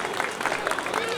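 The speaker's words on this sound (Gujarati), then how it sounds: "તમારા માટે તો તમે તાળીઓ પાડો" An audience applauds a speaker at the Dang Darbar 2026 gathering in Gujarat: a dense, steady wash of clapping fills the whole stretch at even loudness, with voices mixed faintly into the crowd noise.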